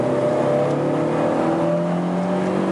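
A Volkswagen New Beetle, built between 1997 and 2011, accelerating on a test drive, its engine hum climbing steadily in pitch from inside the cabin, loud and continuous with no talking.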